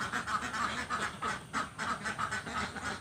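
Laying ducks quack repeatedly on a village duck farm, a dense flock giving overlapping, rhythmic calls at close range with steady farmyard background noise.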